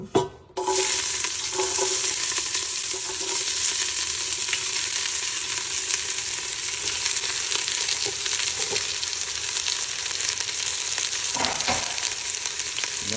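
Onions frying in a pan of oil and ghee, a steady loud sizzle that starts abruptly and continues unbroken, with occasional scrapes of stirring and no talk.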